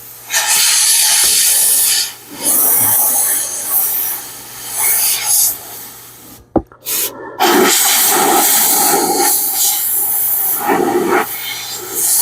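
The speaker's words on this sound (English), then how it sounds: "we're gonna weld that up" Welding on a car body panel to fill a trim screw hole, a loud steady crackling hiss with brief breaks where the arc stops and starts again.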